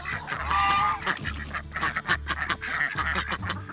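Several farmyard ducks quack in repeated nasal bursts, close and fairly loud, mixed with other poultry calls in an outdoor pen.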